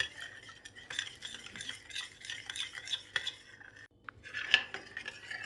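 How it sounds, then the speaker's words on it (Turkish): Egg and sugar whisked with a utensil in a bowl until the sugar dissolves, a quick rhythmic scraping and clinking, close and fairly quiet, with one brief pause before a sharper clink. "Güzelce şeker eriyene kadar karıştırıyorum."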